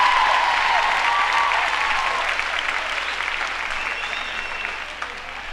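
A comedy show audience applauds, dense and steady, loud at first and slowly easing off, with faint voices mixed in.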